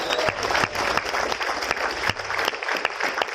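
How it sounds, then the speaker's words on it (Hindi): A seminar audience at a Safe Shop leadership event gives loud applause, a thick, continuous clatter of many hands with a few sharper claps and cheers poking through. "जोरदार तालियां से बना देंगे"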